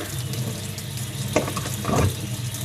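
A cold kitchen tap pours into a sink for doing dishes, a steady hissing stream with a couple of louder splashes as the flow shifts, heard up close and alone.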